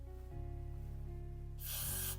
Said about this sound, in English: So I'm trying to put the spray again